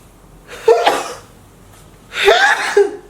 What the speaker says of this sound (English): this product is very heavily scented. It's making me sneeze.